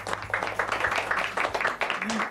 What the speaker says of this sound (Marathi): जोरदार टाळ्या चिरायूसाठी.